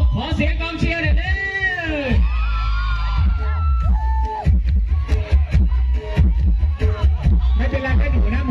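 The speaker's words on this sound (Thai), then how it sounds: "ขอเสียงกองเชียร์หน่อยดิ" Lively crowd at a Thai rice-tube merit festival cheering and whooping around a stage contest, bursts of shouts layered under an amplified voice on a loudspeaker, with loose babble and a few sharp bangs.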